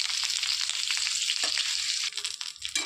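Green chillies frying in a spoonful of oil on low gas give a steady, close sizzle with soft crackles throughout, thinning out briefly toward the end.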